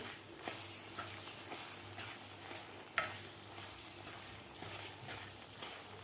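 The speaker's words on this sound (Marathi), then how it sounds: "आता केळीसुद्धा आपल्याला या रव्याबरोबर व्यवस्थित भाजून घ्यायची आहे तुपामध्ये" Sliced bananas roast with semolina in ghee, giving a soft continuous sizzle. Regular stirring scrapes and a sharp clink are heard near the pan, and no one speaks.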